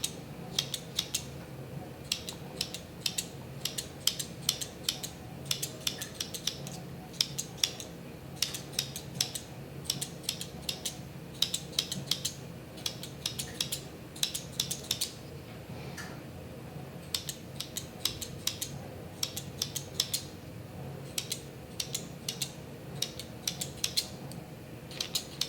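Spring-loaded scissors snip repeatedly into sourdough bread dough to score a tree pattern, giving many close, quick metallic clicks in an irregular rhythm over a low steady hum, with no talking.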